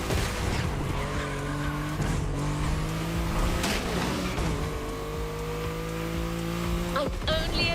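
A car drifts in the racing video game The Crew Motorfest, with a continuous loud engine roar and long sustained tire squeal shifting in pitch, plus a voice speaking over it.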